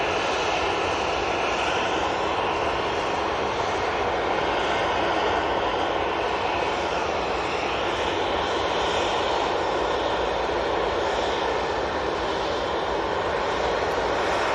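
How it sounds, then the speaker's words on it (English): Aer Lingus Airbus A320 on final approach into Manchester Airport, arriving from Dublin: a steady, loud engine roar with broadband rushing noise that holds evenly throughout, no voices. "It is the Aer Lingus A320 coming in from Dublin."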